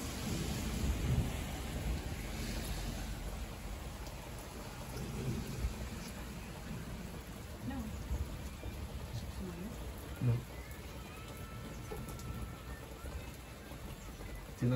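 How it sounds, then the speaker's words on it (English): Thunder rumbles from a storm over Big Bear, California, a steady low roar with rain hiss throughout and a sharper burst near the end, with faint voices in the background. "You can hear the thunder, but we want some more lightning bolts from this cloud."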